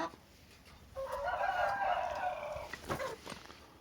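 Backyard chickens and roosters of a local breed, one rooster letting out a full, close crow over soft clucking and scattered barnyard noise.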